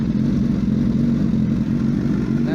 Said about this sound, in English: On this bike, I just installed a brand new M4 full exhaust system.